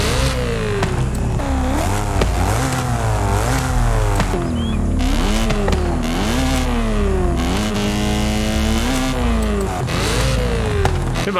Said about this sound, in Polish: Teraz zobaczmy dźwięk układu wydechowego.